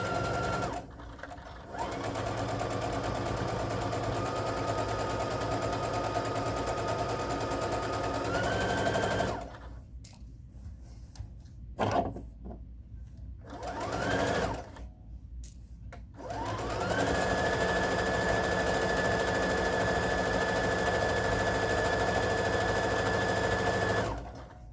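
A sewing machine stitches garment seams in long, steady runs of motor whine with a needle buzz, stopping briefly in the middle with a few short bursts before running again, close and alone.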